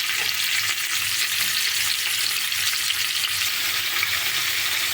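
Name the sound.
onions, green chillies and dried fish frying in oil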